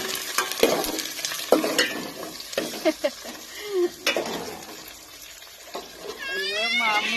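Food is stirred in a pan while cooking, with scraping and sizzling sounds coming in short bursts between nearby conversation.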